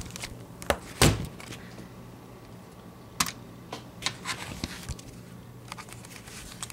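Scattered computer keyboard key presses, a few sharp isolated clicks spaced irregularly over several seconds, close and moderately loud against a quiet room background.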